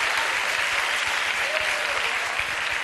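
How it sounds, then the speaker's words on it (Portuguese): A studio audience on a Brazilian comedy TV show claps steadily and loudly throughout, a dense continuous wash of applause with no break. "Palmas"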